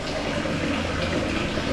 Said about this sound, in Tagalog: Tignan natin yung water pressure.